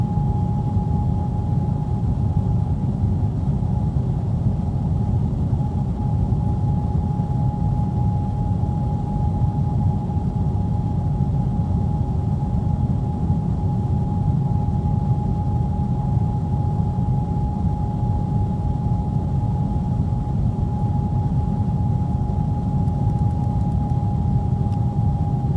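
Cockpit of a Pan Pacific Airlines Airbus airliner taxiing to the runway at Manila, with a steady, loud low rumble and a constant high whine that run unchanged throughout and have no clear speech over them.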